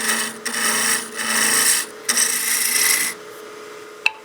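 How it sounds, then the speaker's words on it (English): A wood lathe works the body of a bat house ornament as a gouge rough-shapes it. Several close, raspy bursts of cutting, each about a second long, are broken by short pauses, and one sharp tap sounds near the end. "We'll start working rough shaping the exterior of the body here."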